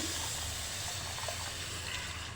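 Tamarind water poured into a simmering ribbonfish curry, a soft continuous liquid rush with faint hiss, steady and close throughout.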